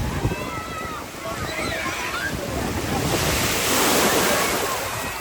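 Sea waves break and wash up on the shore in a continuous rushing roar that swells louder midway, with wind buffeting the microphone and people's voices mixed into the surf.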